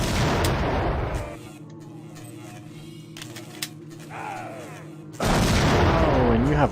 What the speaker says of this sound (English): Oh, turret.